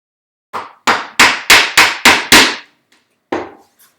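Chisel work on a wood joint for a bookcase: seven quick, sharp strikes land in a steady rhythm, then a single final blow after a pause. The strikes are loud and close, with no talking.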